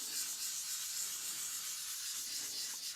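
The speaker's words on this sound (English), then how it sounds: "I'm just going to wipe this off the surface with the rust eraser real fast" A rust eraser rubs across the surface of a 1000-grit sharpening stone, making a soft, continuous, quiet gritty hiss for a few seconds and ending with a small tap.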